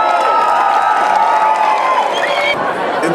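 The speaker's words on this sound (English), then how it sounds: "can you give a round of applause?" A crowd applauds and cheers the first, second and third place race winners, a dense burst of clapping and shouting that stays loud throughout the short stretch.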